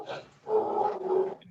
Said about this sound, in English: Matt, is that your dog again?